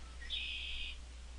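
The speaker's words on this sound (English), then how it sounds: "let's wait for my bird to chirp." A pet bird gives a single clear, high whistled chirp lasting about half a second, close and alone indoors over a low steady hum.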